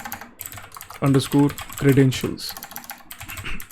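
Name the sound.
typing on a computer keyboard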